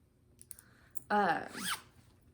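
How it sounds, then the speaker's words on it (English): A large zippered project bag with a detachable D-ring handle is unzipped in one quick, close, raspy pull lasting under a second, after a few faint clicks. "This, I believe, is her large zipper."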